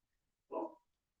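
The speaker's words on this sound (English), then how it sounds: "You hear barking." A single dog bark, short and fairly faint, heard alone against an otherwise quiet background.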